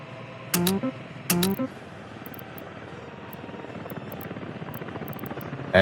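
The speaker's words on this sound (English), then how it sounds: "Can we get the helicopter over there?" Helicopter in the Soviet-era city-building video game Workers & Resources: Soviet Republic, a steady whirring rotor drone throughout, with two short louder game interface tones near the start.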